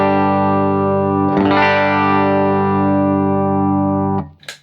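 An electric guitar is played through a compressor pedal: a ringing chord holds at a nearly even level for several seconds, a second strum lands partway through, and the sound is cut off with a few short picked notes at the end.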